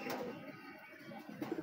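A Sirajee pigeon, a young bird not yet flying, gives a few soft low coos near the end, close by against quiet room ambience.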